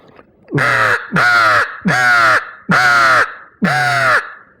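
Five loud, harsh caws blown on a handheld crow call in an even rhythm, each about half a second long, mimicking a crow for turkey hunting, with no talk over them.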